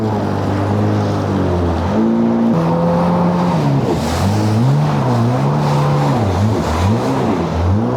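A jet ski engine revs loudly and continuously while being ridden on water, its pitch rising and falling with throttle changes, close and dominant throughout.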